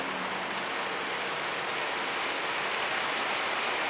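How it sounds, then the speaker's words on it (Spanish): Heavy rain pours down in a steady, dense hiss of drops pattering on surfaces, loud and unbroken from start to finish with no talking. "Está lloviendo fuerte"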